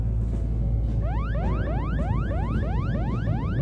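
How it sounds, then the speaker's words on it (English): A rapid, repeating electronic alarm with rising sweeping tones whoops continuously over a loud, low engine drone. "Dad, that alarm again."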